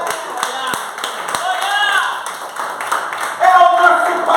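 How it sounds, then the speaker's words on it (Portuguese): Applause breaks out during a Portuguese-language church sermon, a scattered patter of clapping that swells near the end, mixed under a preacher's talking and voices. "Uma salva de palmas"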